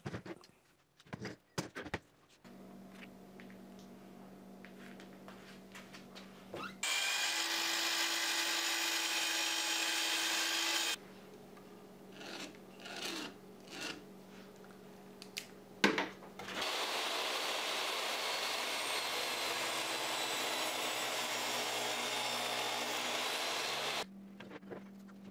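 Power saw cutting a walnut workpiece in half in a woodworking shop, two sustained loud whining runs of several seconds each, separated by clunks and handling noises.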